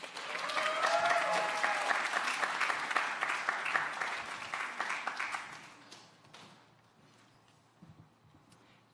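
Audience applause at an evening law school talk as a speaker is welcomed to the podium, loud steady clapping for about five seconds that fades into scattered claps and room murmur.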